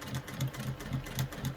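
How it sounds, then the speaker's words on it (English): A home sewing machine runs a short burst of back stitches at a shortened stitch length while lining a bag's zipper pocket, giving a soft, quiet, regular mechanical whir with about six even pulses. "I'm going to just a couple of back stitches to secure my threads."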